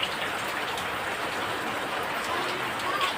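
Rain falls as a dense, unbroken hiss that stays even and fairly loud throughout, with no voices.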